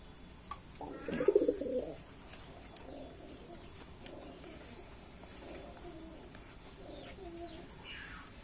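Racing pigeons cooing in a loft, a few low soft coos rising at moments over a steady faint hiss and background murmur, with one louder burst early on.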